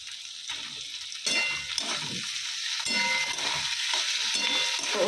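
Tomato, ginger and spices frying in a pan, a bright sizzle that jumps louder partway through, with repeated soft stirring scrapes, no one talking.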